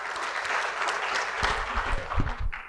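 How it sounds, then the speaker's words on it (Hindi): An audience at an annual convention claps steadily throughout, a dense, continuous round of applause from a seated crowd with no talking over it. "इसलिए एक बार अपने लिए ताली बजा लीजिए"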